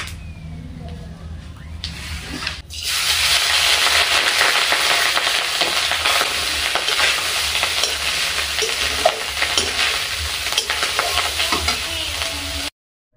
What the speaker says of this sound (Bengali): এবার আমি ভাতগুলো দিয়ে দেবো কড়াইতে।